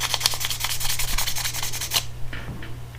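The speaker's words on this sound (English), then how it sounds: "we hit it with a little bit of sandpaper to take down the filing marks that we made" Sandpaper rubbed over a diecast 55 Bel Air gasser body to smooth away filing marks, quick rhythmic scratchy strokes close up, then a softer few rubs after a brief pause.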